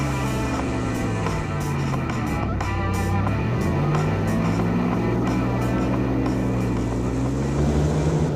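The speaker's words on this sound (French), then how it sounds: "la puissance phénoménale de son moteur et de son hélice" A loud, steady airboat engine drone with a propeller hum that rises and falls in pitch, continuous and close throughout, on a lake in Florida.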